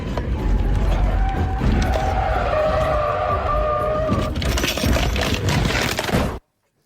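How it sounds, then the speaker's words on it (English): A car skids, crashes and rolls over twice before ending up in a ditch, heard as a loud continuous scraping, tumbling roar with crunching impacts, close and harsh, cutting off abruptly at the end. "Rolled the car twice, ended up in a ditch"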